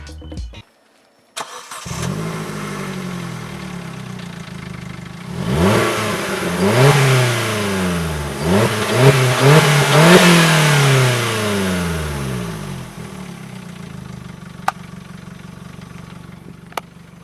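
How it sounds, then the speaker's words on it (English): A Corsa D 1.4 SXI with a straight-pipe exhaust starts up, then revs hard several times in rising and falling sweeps before settling into a loud, rough idle, close by with no talk. "I've just got this new exhaust installed"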